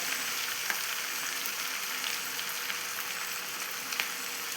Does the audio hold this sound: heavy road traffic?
no